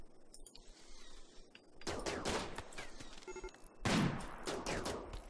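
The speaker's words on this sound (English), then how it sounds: "Okay, so they were able to shoot back right there." Rapid bursts of gunfire from the siege combat game Rimworld, a crackling volley that swells into heavier fusillades midway and again near the end, dense and close with no talk over it.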